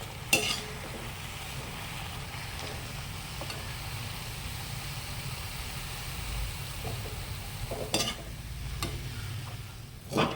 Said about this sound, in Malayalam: വെള്ളം നന്നായി തിളച്ച് വരുമ്പോൾ അതിലേക്ക് റവ ചേർത്ത് നന്നായി ഇളക്കിയെടുക്കുക